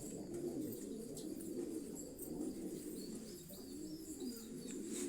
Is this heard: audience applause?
no